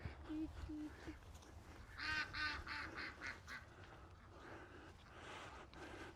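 Domestic ducks on an autumn homestead quack and honk in a loud cluster of repeated calls, with one mallard stuck, the calls close and overlapping against a steady outdoor background.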